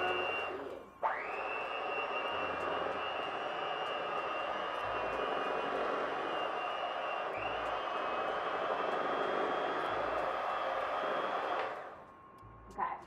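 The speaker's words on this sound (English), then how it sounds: "we're going to use a mixer for this. Just put it on a really low speed." Electric mixer running on low speed, blending gluten-free cannoli filling; a steady close whine starts after a second, holds evenly for about ten seconds, then winds down near the end.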